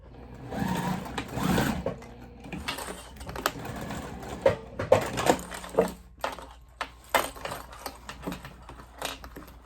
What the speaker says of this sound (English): I'm sewing in maybe about 1 inch to create that turning hole.